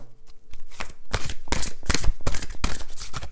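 Oracle cards from the Chemin de l'Amour deck being shuffled by hand: a run of quick papery riffles and flutters, close and fairly loud, repeating in short bursts with no talk over them.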